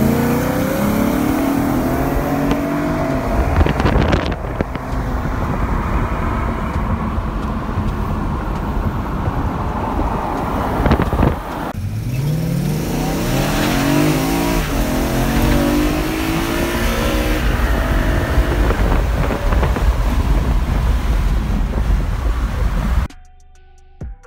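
Tuned BMW E92 cars, a 335i and an M3, make street pulls: engines climb through rising revving sweeps, shift, and climb again with buffeting wind noise, loud and close, then cut off abruptly near the end.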